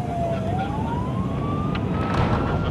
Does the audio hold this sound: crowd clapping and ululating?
no